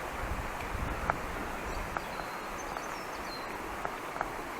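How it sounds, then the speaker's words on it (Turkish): Birds chirp in a valley near Yerköprü, Vezirköprü in Samsun, with short, sparse calls scattered over a steady wind rush and a low rumble, and no voices. "Kuş sesleri."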